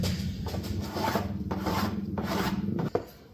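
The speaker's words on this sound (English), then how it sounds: "I'm just going to level this out and take off some of the burring here." Close-up rhythmic rasping of a file scraping burrs off plastic, steady back-and-forth strokes with a brief clack near the end.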